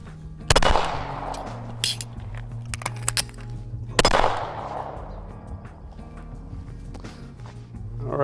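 Two sharp suppressed shots from a threaded Walther PRO SD pistol ring out a few seconds apart, each followed by a decaying reverberant tail, with faint clinks and handling noises around them.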